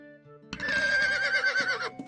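A horse whinnies in the 1998 online role-playing game Ultima Online at a town stable: one loud, clear neigh lasting over a second, rising and falling in pitch with a quivering tail, heard alone.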